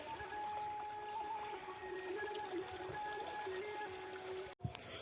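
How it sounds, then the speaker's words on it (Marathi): Water runs steadily from an outdoor supply on a farm, a faint, continuous trickling flow with a brief break near the end and no voices. "पाणी इथं चालू आहे."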